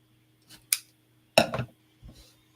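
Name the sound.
scissors snipping off the edge of card stock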